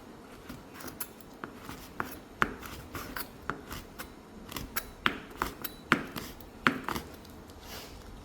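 A knife chopping chili peppers on a board for Tom Yum paste, quiet irregular taps and cuts repeating steadily up close.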